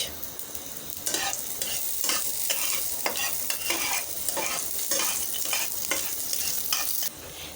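Onions sizzle in hot oil in a pan on the stove for a greens and lentil dish, with a constant frying hiss broken by repeated scraping strokes of a spatula stirring, close and fairly loud.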